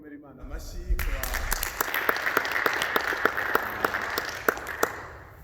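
A church congregation breaks into applause at a Sunday service, with a burst of mixed clapping building and holding while a voice speaks over it and sharper claps stand out.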